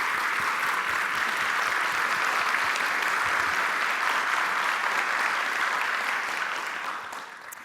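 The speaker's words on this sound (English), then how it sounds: "So can you all give them a big round of applause" A panel audience at a local government discussion event claps for the councillors, a steady, dense round of applause that holds evenly before fading toward the close.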